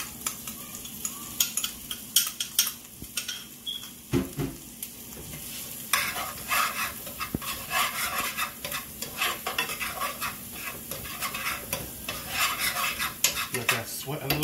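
Onions and garlic sweat in melted butter in a pan while being stirred: a steady soft sizzle runs throughout, broken by repeated scraping and clinking of a utensil against the pan, louder in the second half.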